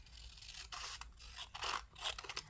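Scissors snip and trim a paper craft booklet up close, giving soft, faint crisp cuts and rustling paper in short irregular strokes.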